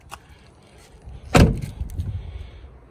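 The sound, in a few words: Jeep door shutting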